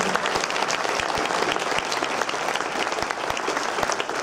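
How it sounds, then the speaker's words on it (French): An audience bursts into sustained, dense applause for a BBC radio director, loud and continuous throughout with sharp individual claps standing out from the crowd. "Tout le monde va l'applaudir."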